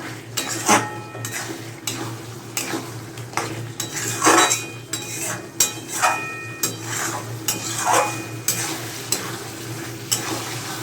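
Chopped capsicum and onion are stirred together in a frying pan for an egg and potato dish, with rapid, loud metal spatula scrapes and clacks over a light sizzle.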